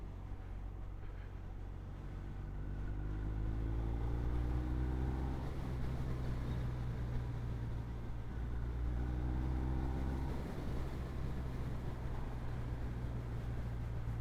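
A BMW R1250R motorcycle engine drones steadily with a low, throaty exhaust rumble, rising and falling in pitch as it shifts through gears with a quick shifter over rushing wind noise.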